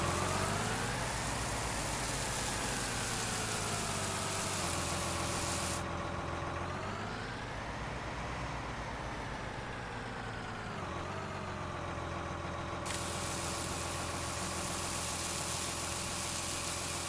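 A truck engine drones in the farming video game Farming Simulator 19, a steady loud hum whose pitch rises and falls gently as revs shift, continuous throughout with no voices.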